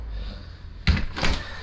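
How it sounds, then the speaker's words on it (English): A door closes indoors in a rental unit under renovation: a firm thump followed by a second softer knock a moment later, close and fairly loud after a quiet background hum. "Let me actually close the door."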